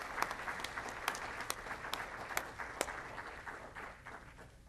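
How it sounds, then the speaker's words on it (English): An audience applauds landmark award recipients at the 2011 Jefferson City Landmark Awards, a moderate wash of clapping with a few sharp individual claps standing out, fading slightly toward the end. "please give them a round of applause"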